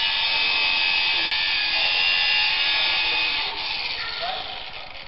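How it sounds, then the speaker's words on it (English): At a protest, police run an angle grinder close by: a loud, continuous harsh grinding roar holds steady for several seconds, then eases slightly near the end. "wait till the police bring out the grinder"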